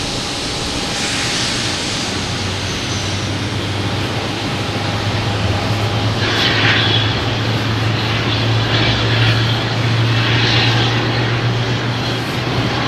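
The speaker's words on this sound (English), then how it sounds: "Also have a Southwest Airlines heading to Dallas, 737 800, lined up on 4 right to take off" A Southwest Airlines Boeing 737-800 rolls for takeoff from runway 4 right at Boston Logan, a steady broadband jet roar holding loud throughout with a low engine drone building underneath, no talking.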